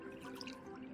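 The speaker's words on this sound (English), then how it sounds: "we're going to pour off some of the excess milky stuff" Excess milky liquid being poured off into a container, a soft continuous trickling and dripping stream, close and fairly quiet, running steadily throughout with no talking.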